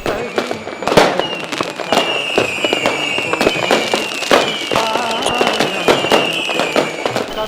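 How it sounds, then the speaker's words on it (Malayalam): Dussehra fireworks in Shimla pop and crack in dense, loud bursts, joined by a sustained whistling rocket tone, with bangs continuing without pause throughout. "കോലങ്ങൾ കത്തിത്തീർന്നാലും വെടിമരുന്ന് കലാപ്രകടനം തുടരും"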